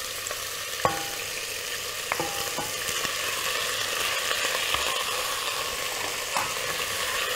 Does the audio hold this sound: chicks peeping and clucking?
no